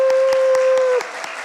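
Brief clapping from a church congregation at an air force base church welcoming visitors: a few distinct, evenly spaced claps, with a steady electronic tone underneath that cuts out partway through.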